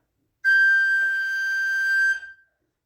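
A recorder sounds its highest note, a single piercing, steady whistle-like tone held for about two seconds, loud and alone with no talking.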